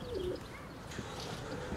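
Pigeons coo softly in a short, low phrase over constant outdoor background noise, a little way off and fairly faint.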